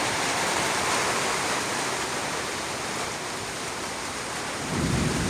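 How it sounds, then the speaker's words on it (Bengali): Heavy rain pours in a Kalbaishakhi storm, a dense, loud, unbroken roar with a deep rumble of thunder swelling near the end. "এখন এই যে বৃষ্টি হইতেছে, বৃষ্টি নামতেছে"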